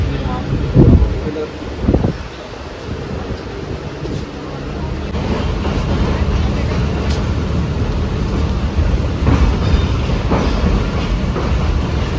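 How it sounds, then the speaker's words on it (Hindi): A passenger train from Rawalpindi to Karachi rolls along in heavy rain, giving a steady low rumble with clickety-clack and wind noise heard from inside a carriage, while people talk over it. "अल्हम्दुलिल्लाह से ट्रेन चल गई"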